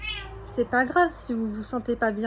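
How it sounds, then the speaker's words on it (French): A cat meows repeatedly in the background indoors, several short drawn-out calls spread through the clip while someone talks over them. "Je suis désolée pour le chat qui miaule en fond."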